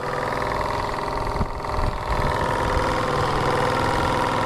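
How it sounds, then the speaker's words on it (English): An Anton Crystal Twin 31cc engine fitted with a mechanical pump runs steadily, giving a loud, continuous mechanical drone with a faint rhythmic knock and a slight dip midway. No one speaks over it. "Anton Crystal Twin 31cc with the mechanical pump on it"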